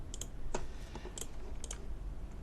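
Several crisp computer mouse clicks, near and distinct, spaced irregularly over a steady low background hum, with no talking.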